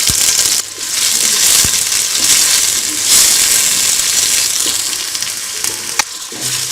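Onion and tomato sizzle loudly in hot ghee, a steady broadband frying hiss with occasional clinks and stirring scrapes, close and continuous with no talk.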